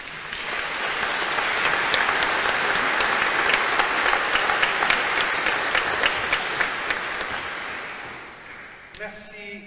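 Sustained applause from a church congregation at a Mass welcoming and installing a new priest, dense steady clapping that swells and then fades, with a voice briefly heard as it ends.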